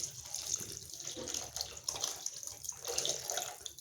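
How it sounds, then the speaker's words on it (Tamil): Water pours into a simmering pan of karuvattu kulambu, dried fish curry, a faint, steady splashing trickle running for a few seconds with no voices. "இப்போ இந்த குழம்புக்கு ஏற்ற தண்ணி சேர்த்துக்கலாம்."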